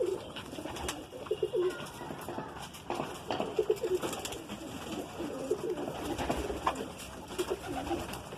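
Madrasi pigeons cooing in a loft in Aurangabad, repeated soft throaty coos from several birds at close range over steady background noise.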